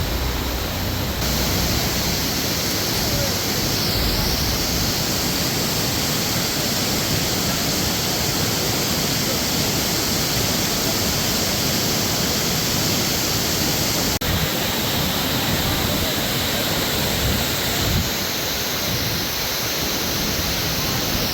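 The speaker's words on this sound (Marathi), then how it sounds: "पाण्याचा आवाज वरून पडणारा पाऊस गर्द धुकं" A constant roaring wash of falling water fills the air, loud and unbroken, from Ekiv waterfall near Satara, India, mixed with heavy rain amid thick fog.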